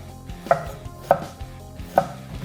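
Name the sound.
knife slicing radishes on a chopping board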